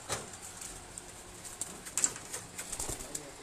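Pigeons of a single breed coo softly nearby in a loft, with short repeated murmuring calls and a few faint wing flutters over quiet background.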